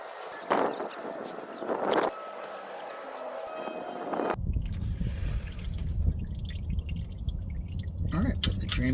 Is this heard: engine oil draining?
yes